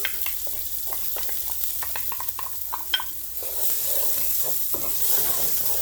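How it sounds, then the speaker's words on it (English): Onions sauteing in olive oil in a skillet, a close spatula scraping and tapping in quick irregular strokes, then a broad steady sizzle that swells louder toward the end, with no talking. "we're going to get the onions sauteing."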